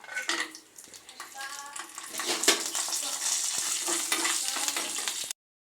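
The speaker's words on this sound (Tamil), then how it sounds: "இதில் முந்திரி திராட்சை போட்டு நம்ம வறுத்து எடுத்துக்கலாம்" Cashews and raisins fry in hot ghee for Tamil milk payasam, giving a steady close sizzle with stirring scrapes throughout and no voices.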